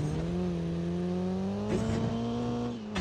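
A car engine drones steadily in a driving video game, a sustained tonal hum with a slight rise in pitch and brief shifts near the end, continuous and fairly loud with no speech over it.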